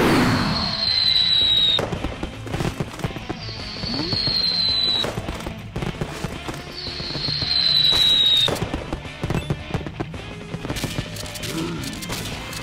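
Fireworks weapon firing in the Dead Pixels video game: dense bursts of crackling pops and bangs fill the scene, with repeated whistling rising streaks every couple of seconds, loud and continuous against game background sound.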